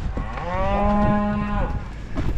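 A cow on a farm with many calves gives one clear, drawn-out moo close by in a barn, with faint rustling and knocks around it.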